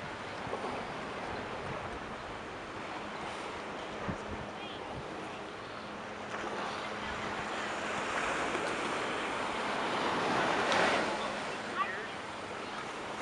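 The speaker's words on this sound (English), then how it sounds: "Great day to be at the beach." Ocean surf at Tunnels Beach on Kauai, a steady wash of breaking waves with wind, swelling louder toward the end, with faint voices in the background.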